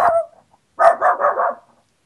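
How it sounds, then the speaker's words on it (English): A shark in Garry's Mod barks like a dog: one sharp bark, a brief pause, then a quick run of four close, loud barks, alone and clear. "I think this shark barks"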